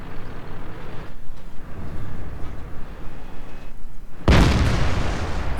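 Loud, close tank gun blast in a tank video game, a sudden booming shot fired into the ground, standing out after several seconds of steady engine rumble and battlefield noise.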